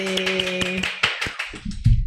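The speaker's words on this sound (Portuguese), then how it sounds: "Uma salva de palmas!" A few people applaud a guest on a Portuguese-language autism podcast, a short run of separate, crisp hand claps that thins out and stops within about two seconds.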